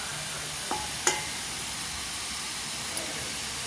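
Murukulu fry in hot oil with a constant, even hiss, broken by a few sharp clicks and taps nearby.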